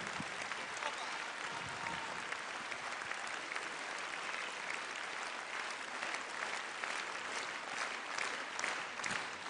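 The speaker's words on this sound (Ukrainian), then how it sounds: "ваші оплески!" At the presentation of a children's opera, an audience claps steadily and warmly for the performers, a continuous even wash of applause at moderate level.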